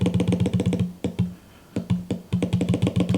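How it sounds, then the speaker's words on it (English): The trackpad on a Microsoft Surface Pro 9 from 2022 is clicked in quick repeated bursts of sharp, close taps, with a brief pause in the middle. "Click test on the trackpad."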